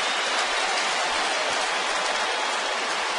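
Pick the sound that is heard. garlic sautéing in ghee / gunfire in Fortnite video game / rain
rain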